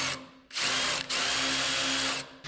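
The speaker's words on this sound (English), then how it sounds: "So we're just gonna drill them out." A power drill bores out quarter-inch hinge bolts on a broken door hinge of a 1964 International pickup, whining loudly in two long bursts with a brief pause between, close up.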